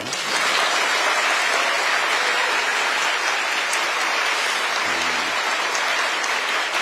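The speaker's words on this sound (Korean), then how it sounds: "박수도 한번 하세요." Audience of new civil servants applauding at a welcome event, a dense, steady wash of many hands clapping at once that holds evenly for several seconds.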